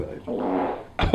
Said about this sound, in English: Oh, and farting.